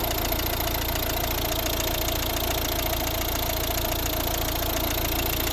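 A steady, low diesel engine idle from a 2012 Volvo V60 1.6 HDi rumbles on without change, close and fairly loud, with a constant mechanical drone and no voices.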